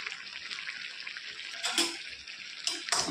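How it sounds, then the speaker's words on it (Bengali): Fried prawns are stirred into a curry in a pan, giving a quiet steady sizzle with a few louder scraping bursts of stirring near the end, and no voices. "এই অবস্থায় ভেজে রাখা চিংড়ি মাছগুলো দিয়ে দিলাম,"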